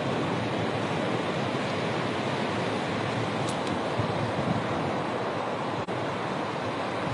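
Surf rolling in on the Atlantic shore at Sidi Ifni, Morocco: a constant broadband roar of breaking sea waves mixed with wind, steady throughout with no speech.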